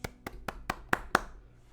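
Six slow, distinct hand claps, sharp and close, spaced about a quarter second apart, alone without talk.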